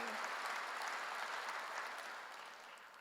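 A church congregation at a Korean sermon breaks into steady applause, a soft, even wash of clapping from many hands that gradually fades over a few seconds.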